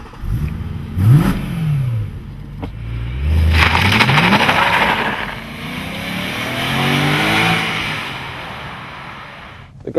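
A BMW M3 revving and accelerating on the road, the engine note climbing and falling in several clear pulls, close and loud, with no talk over it.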